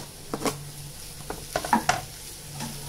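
Mutton stirred with masala in a pan for samosa filling, giving soft scraping stir strokes over a low sizzle, with a few light spatula clinks against the metal; no voices.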